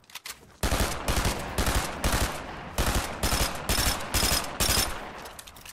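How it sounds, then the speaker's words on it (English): Video game gunfire: rapid automatic bursts fired in repeated loud volleys with brief gaps between them, close and dominant, with no talking. "what are you shooting at, Bob?"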